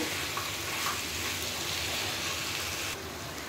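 Chickpeas fry in a spiced masala, a steady close sizzle with soft scraping stirs running throughout, dropping slightly in level near the end.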